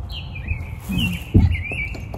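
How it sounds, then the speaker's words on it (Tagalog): Faint bird chirps and a few thin tweets over quiet outdoor background noise, with a brief low thump partway through. "Tsaka mayroon huni ng ibon."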